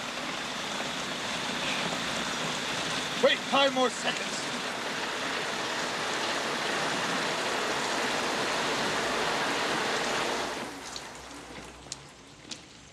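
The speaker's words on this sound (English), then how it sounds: "Right now, it's pouring rain." Heavy pouring rain makes a dense, steady hiss that drops away abruptly near the end, with a few brief voice sounds over it.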